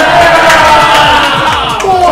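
A large crowd at a charity livestream event cheering and yelling wildly, a dense continuous roar with whoops, loud and sustained throughout.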